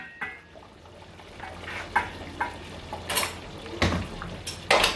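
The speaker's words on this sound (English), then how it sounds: "So I'm going to stir it a bit" Banga soup simmering in a pot is stirred, with a soft bubbling bed under scattered scraping knocks of a spoon against the pot, fairly quiet.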